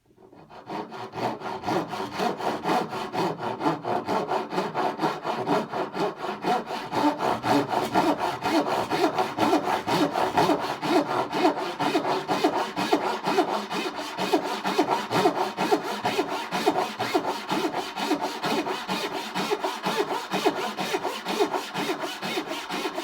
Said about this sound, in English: Now when I'm sawing dovetails